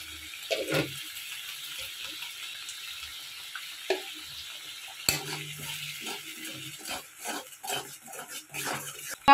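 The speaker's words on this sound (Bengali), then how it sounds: "আর এখন আমি একটু গোটা গরম মশলা ফোড়ন দিয়ে দিচ্ছি।" Whole garam masala spices dropped into hot oil for tempering, giving short bursts of sizzling and crackle with stirring clinks, intermittent and close, growing busier toward the end.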